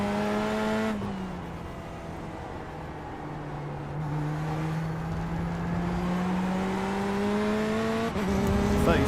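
GT race car engine in the iRacing simulator, loud and continuous, with pitch shifts through gear changes and a dip as the car slows then builds again, no voices over it.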